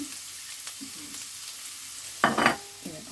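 Onions sautéing in a pan until golden while cooking sprouted fenugreek sundal, a faint steady sizzle with a brief louder burst of stirring or scraping near the end, no speech.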